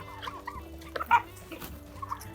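Ducks being offered for sale let out a few short, scattered quacking calls at close range, with quiet gaps between the bursts.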